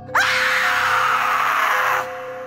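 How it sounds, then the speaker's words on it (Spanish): A woman's harrowing scream, loud and close, rising sharply then held for about two seconds before cutting off abruptly. "un grito desgarrador de mujer los paralizó"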